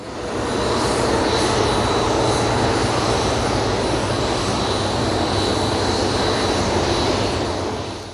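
A cargo aircraft landing at London's Heathrow Airport gives a steady, loud engine roar that rises in and holds level throughout, with no voices.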